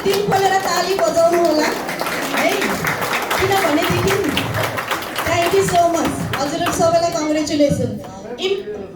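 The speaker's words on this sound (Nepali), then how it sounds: "नारीको लागि अनि जोरदार ताली" Audience clapping and cheering for women at a motivational training event, dense and sustained over the whole stretch with voices talking and calling out over the applause.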